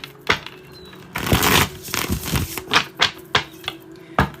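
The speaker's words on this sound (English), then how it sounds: "let me shuffle the cards" A deck of playing cards being shuffled by hand indoors, with a run of crisp riffling bursts and sharp taps in an irregular rhythm, close and clear.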